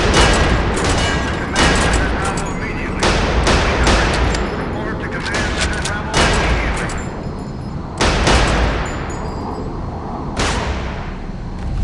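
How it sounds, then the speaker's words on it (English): Gunfire at a shooting range in the 2005 video game Area 51, loud repeated shots fired in quick bursts with short gaps between volleys, each blast leaving a brief echoing tail. "Step on over to the range and fire off a few shots."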